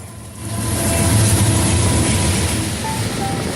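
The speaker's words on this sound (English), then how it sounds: "we saw this freight train go by" A steady low rumble of a passing train, loud and continuous, with a faint tonal whine near the end and no talking.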